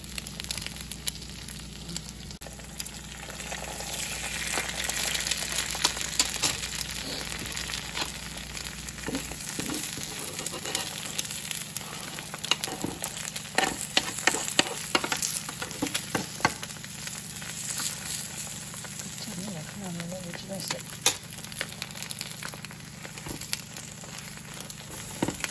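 An egg fries in oil in a pan with a little salt, giving a steady close sizzle dotted with small pops and crackles, continuous and without talk.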